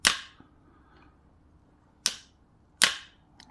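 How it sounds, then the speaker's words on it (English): The bail arm of a spinning fishing reel snaps closed on its spring with sharp, close clicks, three distinct snaps spaced across a quiet background. "So now this bail arm, you can just, it clips in so nicely."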